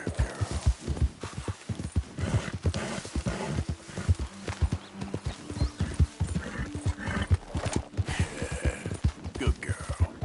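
A horse in Red Dead Redemption 2 trots with steady, quick clip-clop hoofbeats close by and gives a whinny along the way, while a rider's voice urges it on over the footfalls.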